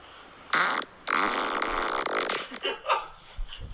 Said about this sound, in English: let's keep going through these farts